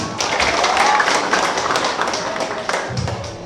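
Dense, steady applause from a crowd at a village head election gathering, many hands clapping close by with a faint voice underneath.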